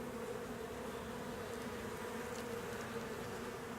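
Honey bees hum in a steady, dense drone inside a new hive opened for inspection, a close and continuous buzzing with no talk.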